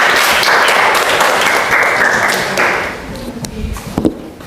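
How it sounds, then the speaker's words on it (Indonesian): A classroom group claps together in a math lesson, a loud burst of applause that thins out after about three seconds into scattered taps and a few final claps. "Baik, tepuk tangan."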